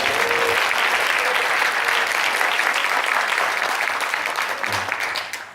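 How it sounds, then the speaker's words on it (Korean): A university worship and praise department open house audience applauds, loud and sustained from the start, then tapering off toward the end with a brief voice surfacing. "오늘의 주인공 예수님께 먼저 큰 영광의 박수 올려드리기"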